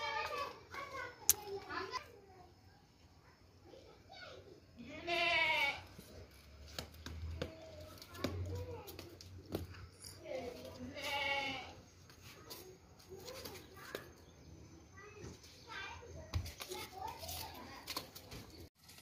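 Goats bleat outdoors on a farm in Pakistan, sounding intermittently at moderate distance amid children's chatter and voices, with scattered bleats rising above the background murmur.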